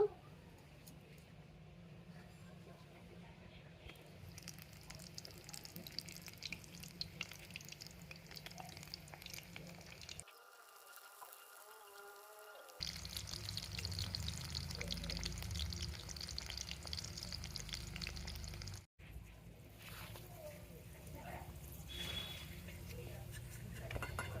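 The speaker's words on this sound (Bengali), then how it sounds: "এবার আমি পকোড়াগুলো তৈরি করে নেব।" Corn pakoras deep-fry in hot white oil, a continuous bubbling sizzle with occasional stirring, rising louder partway through after a short quiet gap.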